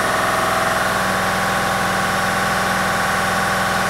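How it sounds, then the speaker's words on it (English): A large electric fan motor spins with the heavy inertia of a big turbo, giving a loud, steady mechanical drone and hum with a constant low throb and no pauses throughout. "There's a lot of inertia from getting the fan spinning. It's just a giant, it's like a big turbo."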